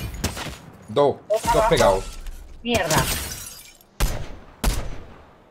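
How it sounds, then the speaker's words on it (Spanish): Sniper rifle gunfire, from a Boom Sniper Rifle, in the video game Fortnite: sharp, loud, shattering cracks land among excited talk, with two distinct blasts near the end. "disparos aquí a la izquierda"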